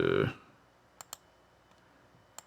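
Light computer mouse clicks while making a custom patch, a few sharp isolated taps in pairs separated by quiet pauses, following a short burst of louder sound at the start.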